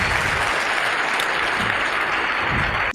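A brief burst of dense, fairly loud audience applause at an emergency medicine session, many hands clapping together before it cuts off abruptly.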